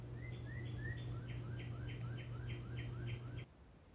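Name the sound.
birds chirping in the horror video game Fear Assessment Plus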